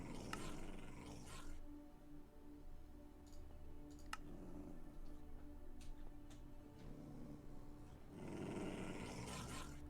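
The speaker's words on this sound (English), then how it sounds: "Is there a second wolf growl noise?" Faint, low wolf growling from Minecraft rumbles in and out of quiet gameplay, with scattered soft clicks between the growls.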